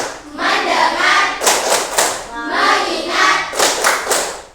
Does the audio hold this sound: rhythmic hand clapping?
yes